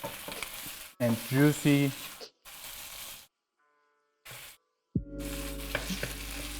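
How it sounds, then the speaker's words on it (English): Meat simmers with coconut in a heavy wok, giving a steady close frying sizzle broken by short gaps. A voice speaks briefly over it, and a sustained tonal hum enters near the end. "We let it now simmer a little bit."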